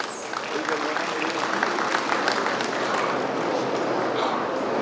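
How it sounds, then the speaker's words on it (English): An audience at the inauguration of Shanta Kalaiarangam at DTEA School in New Delhi gives a steady, dense round of applause welcoming a speaker, sustained evenly throughout at moderate loudness. "Let us welcome her with a round of applause, please"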